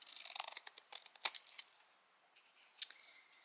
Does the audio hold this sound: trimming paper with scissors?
yes